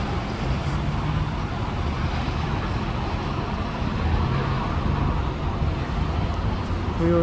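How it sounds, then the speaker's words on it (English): An Alexander Dennis Enviro 400 double-decker bus on a Scania chassis pulls away at a bus stop in Gloucester, its engine a steady low rumble mixed with surrounding road traffic, moderately close and continuous. "We also have another bus departing right behind this Alexander Sivara 400 by Scania"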